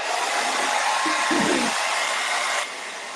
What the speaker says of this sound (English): I'm going to hit this with a hairdryer real quick and then do some touch-ups.